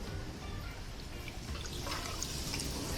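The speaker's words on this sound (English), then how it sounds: "trying to separate as much as the milk" Freshly grated coconut squeezed by hand outdoors, its milk dripping and trickling in a busy, uneven patter of liquid that stays close and continuous, with no speech.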